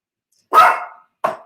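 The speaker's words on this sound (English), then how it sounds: "That's my little dog, Michael." A small pet dog named Michael barks twice, close by and sharp, the first bark fuller and longer, the second shorter after a brief pause.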